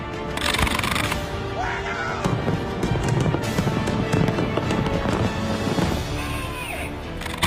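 Fireworks shells burst one after another in a dense volley at a New Year's Eve pyrotechnics show launched from barges, loud cracks and booms with crackling, while voices are heard in the background.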